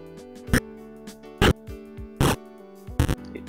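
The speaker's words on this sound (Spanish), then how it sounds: "Digamos que queremos un sonido de explosión." Short synthetic explosion sound-effect variants generated one after another in a game audio program, four brief loud broadband bursts spaced about a second apart over a soft tonal background.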